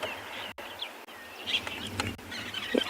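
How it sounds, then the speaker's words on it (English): Red-billed buffalo weavers and starlings call on a sunny afternoon safari, with scattered chirps and short whistled notes over a steady outdoor hiss, some calls close and some farther off. "you can hear there are quite a lot of birds that are active at the moment, red-billed buffalo weavers, starlings"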